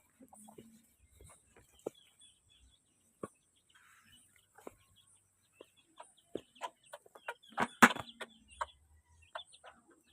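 Chickens cluck in a barnyard with a chick among them. Scattered short clucks start sparse, then come in a denser run of louder calls toward the end, fairly close, with no talk.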